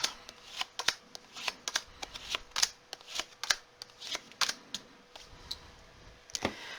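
Tarot cards are shuffled by hand in a quiet room, a series of crisp riffling bursts and soft taps in an irregular rhythm, close and fairly faint.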